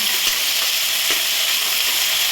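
Bitter gourd and potato chorchori sizzles steadily in a hot pan, a continuous close hiss of frying with faint stirring scrapes and no voices.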